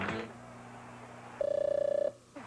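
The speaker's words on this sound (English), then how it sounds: "Just push a button and answer the phone right through your new Zenith." Telephone ringing in a 1981 Zenith Space Phone TV commercial, a steady warbling electronic ring lasting under a second, loud and close over faint background noise with a brief voice at the start.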